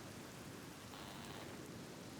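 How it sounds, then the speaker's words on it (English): Steady rain hiss from the video game The Black Mirror (2003), a dense wash of falling drops with no distinct pattern, fairly quiet and continuous throughout. "They really wanted to use the wet rain effect."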